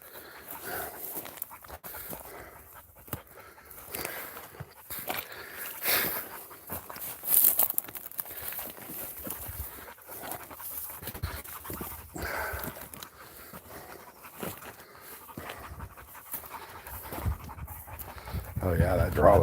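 Dogs pant on an outdoor walk through desert country, rapid breathing rising and falling close by, mixed with footsteps and rustling while someone talks over much of it.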